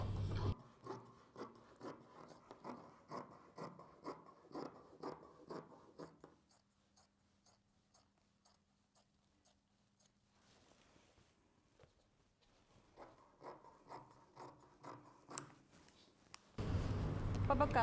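Scissors cut fabric for a circle skirt in quick, rhythmic snips, heard up close in two bursts separated by a quiet pause of several seconds.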